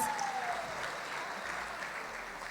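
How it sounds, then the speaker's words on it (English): An audience at a film association event in Malawi claps steadily for a couple of seconds, a dense, even patter of many hands heard at moderate volume. "I thought you were going to clap your hands, Malawians."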